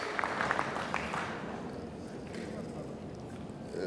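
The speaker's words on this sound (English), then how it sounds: "I think we should give a round of applause for the two distinguished women speakers." Audience applause at a formal presentation: a steady, moderately loud wash of clapping that continues evenly throughout.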